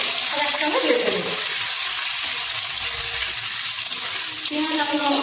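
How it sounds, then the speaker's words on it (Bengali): Onion, potato and chilli fry in a pan with black cumin seeds, giving a loud, steady sizzle that runs unbroken through the whole stretch. "পেঁয়াজ আলু লঙ্কা খুব ভালোভাবে ভাজা হয়ে গেছে।"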